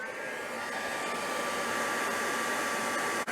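A hair dryer runs steadily to dry glue on a small decoupage plaque, a close, loud, unbroken whoosh of blowing air that holds even for a few seconds and then briefly dips near the end.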